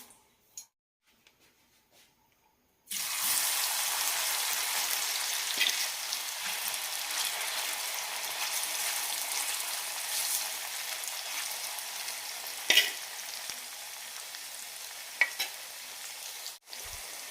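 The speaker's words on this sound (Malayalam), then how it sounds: "ഇനി ഇത് വറുത്തെടുക്കാം." Marinated paneer pieces frying in hot oil for a paneer gravy sizzle loudly and continuously after a quiet start, with a few sharp pops and scraping stirs.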